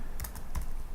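Keys clatter on a computer keyboard while text is typed into georeferencing software: a quick, close burst of a few light clicks.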